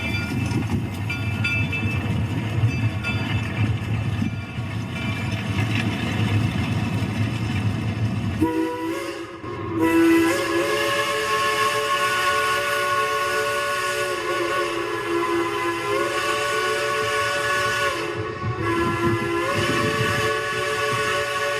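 Steam locomotive at a parade of steam at Cass, a hissing, chuffing train rumble that gives way to a long, loud steam whistle blast holding for many seconds before a brief break, with no talk.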